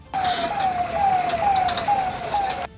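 A fire engine's wailing siren sweeping repeatedly down in pitch, loud and steady over traffic noise, like an emergency vehicle passing nearby.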